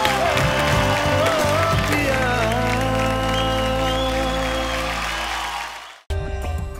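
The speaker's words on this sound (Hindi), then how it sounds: "एक बार जोरदार तालियां" Studio audience on the Indian Idol singing show clapping after a duet, a broad wash of applause under a swelling music sting that fades out, then a brief jingle after a cut.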